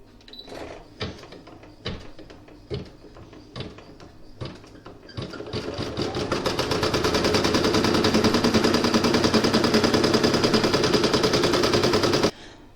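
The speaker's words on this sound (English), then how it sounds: "I'm now going to pop that back into my machine, and it's going to stitch the ghost." A sewing machine stitching a ghost design on a Halloween coaster starts with several separate clicks and short stitch bursts, then runs in a loud, steady, fast rhythm for several seconds before stopping abruptly.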